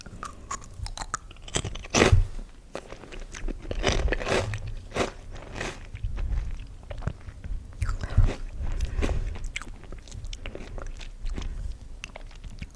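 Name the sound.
eating crunchy spicy snacks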